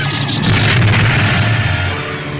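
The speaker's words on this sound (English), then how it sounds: "C-3PO watched as one of the Droid World cannons aimed at them and fired" A deep, rumbling cannon boom fills the clip, a heavy blast with a long low roar that slowly fades away.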